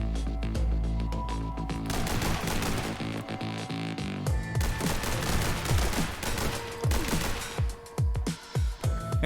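Rapid pistol gunfire from The Hong Kong Massacre video game, a dense, loud barrage of overlapping shots with booming impacts, thinning into separate sharp cracks and echoing tails toward the end.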